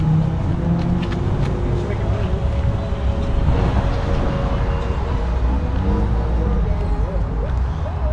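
Trucks idling and rumbling at an outdoor truck meet in Corona, California, a steady low engine drone running throughout with crowd chatter and talk mixed in.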